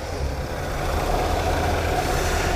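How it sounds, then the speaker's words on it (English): A rebuilt 1964 Pontiac Bonneville 389 four-barrel V8 idles steadily with a deep, even exhaust rumble, close and continuous with no talk. "Car runs good. It's got good exhaust on it."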